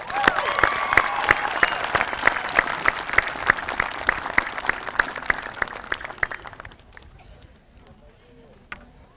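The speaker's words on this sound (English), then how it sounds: "Let's have another enormous round of applause for our class of 2022." A crowd at the Norwich High School 2022 commencement applauds the graduating class, loud dense clapping for several seconds that then thins out to scattered, fading claps.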